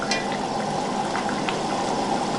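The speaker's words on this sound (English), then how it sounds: "I want to reduce my sauce to a very thick base before I start adding my oil" Sauce sweetened with a tablespoon of honey simmers and reduces in a pan for Moroccan chicken bastilla, giving a steady, close bubbling and sizzling hiss with small pops throughout.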